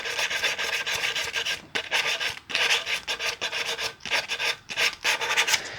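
Grain filler being sanded on a guitar body, a close, loud abrasive rasping in repeated back-and-forth strokes separated by short pauses, with no voices.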